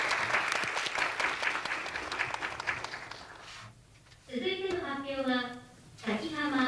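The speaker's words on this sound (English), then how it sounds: "Please give him a big round of applause once again" Audience applause for a speaker at a children's peace summit, a dense patter of many hands for about four seconds that fades out, followed by a voice speaking over the quieter room.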